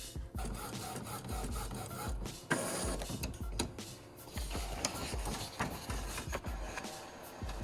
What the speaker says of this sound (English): Let's go ahead and print that.